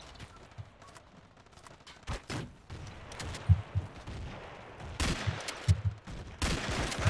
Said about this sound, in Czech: On je smrtelný tou brokovnicí.